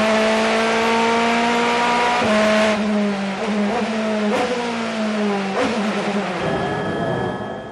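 DTM touring race cars at the Norisring street circuit in 2011 blast past one after another, loud engines rising and falling in pitch through gear changes over about eight seconds, with no talk.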